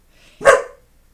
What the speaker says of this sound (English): I really didn't anticipate that my dog would be barking